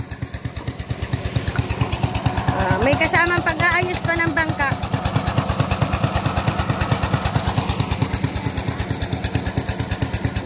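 A small boat engine putters in a fast, even chug close by, running steadily throughout while someone speaks briefly over it.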